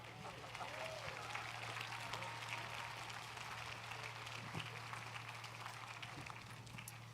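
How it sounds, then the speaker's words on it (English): Faint, distant audience applause at a live midsummer music concert, a steady wash of many hands clapping over a low electrical hum, continuing evenly throughout. "Give him a clap."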